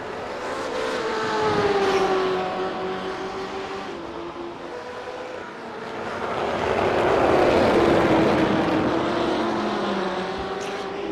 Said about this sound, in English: Like the sound of the BMW.